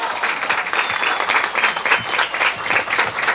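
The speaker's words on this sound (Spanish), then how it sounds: "Fuerte, fuerte el aplauso para él" Strong audience applause for a teacher at a concert fills the space, a loud, even roar of clapping that swells slightly in pulses throughout.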